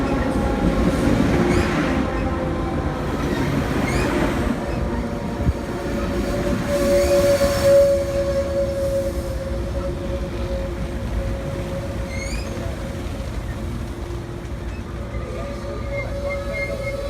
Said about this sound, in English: comes the Angels Express with my favorite Metrolink F59PH, A59.